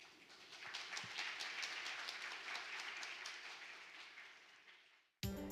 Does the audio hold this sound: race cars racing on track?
no